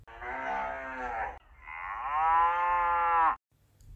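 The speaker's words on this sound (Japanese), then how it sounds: "牧草地で牛がもーもー泣いている。" A cow in a pasture lets out two close, loud moos, a short low call followed by a longer drawn-out one, then falls quiet.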